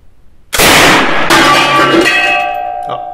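One loud, sharp report from a PPSh-41 submachine gun with no follow-up shots, ringing out with a metallic decay that lingers for a few seconds.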